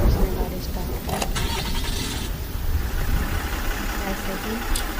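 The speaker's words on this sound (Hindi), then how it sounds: "उसने गाड़ी स्टार्ट की" A car engine cranks and catches in wet, stormy weather, a mid-pitched churning rumble up close with faint jangling, while a voice talks over it.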